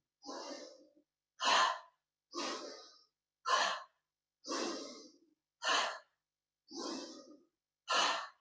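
Slow qigong breathing, four deep inhales alternating with four long exhales, each breath distinct and close with quiet gaps between.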